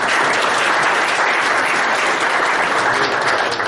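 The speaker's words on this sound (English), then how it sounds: "Let's give him a round of applause." Loud, sustained applause from an audience honoring a Martin Luther King Day Parade organizer, steady dense clapping filling the room from start to finish with no talk over it.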